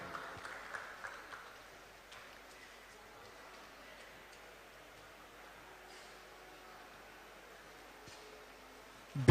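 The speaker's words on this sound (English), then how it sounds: "Let's give a huge round of applause to Moj for their truly captivating performance" An audience at an alumni awards show applauds a team's performance, a faint, diffuse patter of clapping that thins into a low crowd murmur.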